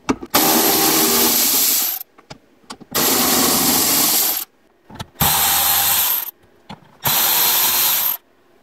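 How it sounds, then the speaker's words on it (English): Four loud bursts of a power driver whirring as fasteners and screws are backed out of a Kia center console, each running one to two seconds with short pauses and clicks between. "I've got two more fasteners down here and two screws up here, and I think I can pull the rest of this console out."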